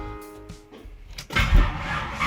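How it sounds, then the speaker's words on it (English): A 1974 Chevy Nova's 7.4L 454 big-block V8 cranks briefly, then catches and roars to life, loud and close, settling into a rough idle. "I'm going to start her up"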